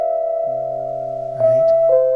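Synth played through a Cooper FX Generation Loss pedal with its high pass filter engaged, bass cut away, leaving a steady sustained tone with a thin low layer and a brief shift in the chord partway through, alone without talk.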